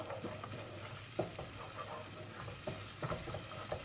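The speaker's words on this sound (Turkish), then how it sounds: "Azıcık kavuruyoruz domatesi." Homemade tomato paste fries softly in a pan, a quiet continuous sizzle broken by repeated scraping strokes of a spoon stirring it.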